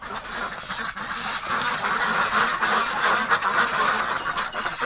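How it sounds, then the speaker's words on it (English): A group of ducks in a snowy winter setting, quacking continuously in a dense chorus of overlapping calls at moderate volume, with no talk over them. "Hello, ducks."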